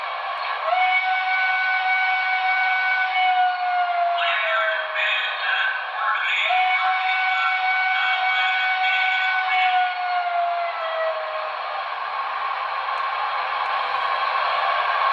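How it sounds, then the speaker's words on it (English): A model steam locomotive's secondary whistle from a Broadway Limited brass hybrid PRR Q2 Duplex 4-4-6-4 sounds in two long, steady blasts, each sliding slightly downward, over a constant hiss of steam and rumble. "22's secondary whistle"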